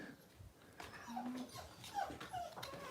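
A dog whimpers indoors in a series of soft, high whines and yips, rising and falling over a few seconds, fairly quiet and close, with no one speaking.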